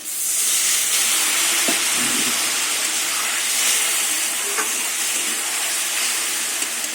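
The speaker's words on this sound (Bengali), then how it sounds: "সামান্য আবার একটু জল দিয়ে দেবো নাহলে আদাটা পুড়ে যাবে" Water splashed into a hot pan of frying ginger, turmeric and spices bursts into a loud, steady steam hiss that fills the whole stretch, with a couple of faint utensil clinks partway through.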